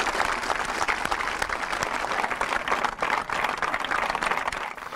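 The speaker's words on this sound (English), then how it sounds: "And just a round of applause to Daphne's life" An audience claps steadily at a memorial tribute for a murdered journalist, the applause dense and sustained throughout without a break, with no talk over it.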